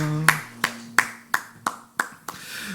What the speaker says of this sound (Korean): 하나님 앞에 모든 영광의 박수 올려드리겠습니다.